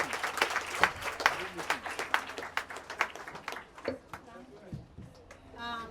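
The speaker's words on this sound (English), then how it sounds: "So now put our hands together for Mrs. Jaya Kai Kai." Audience applause at a primary school donation ceremony in Grafton, Sierra Leone, a burst of close, distinct hand claps that thins out as voices begin speaking over the last seconds.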